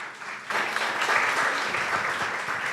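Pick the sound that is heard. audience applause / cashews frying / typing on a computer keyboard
audience applause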